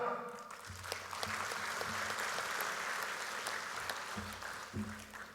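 Audience at a political party assembly applauds guests from Sabah, a fairly faint, even wash of clapping with a low hum and a few sharper knocks underneath.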